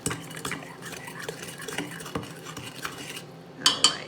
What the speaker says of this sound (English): the beaten egg, okay, I'm going to stir it around again